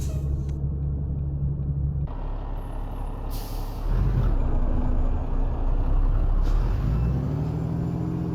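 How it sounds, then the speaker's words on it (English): A Volvo VNL truck in American Truck Simulator releases its trailer air brakes in loud pneumatic hisses and bursts over a low, steady diesel rumble, with engine tone shifting as it manoeuvres. "this is where trailer brakes come in handy"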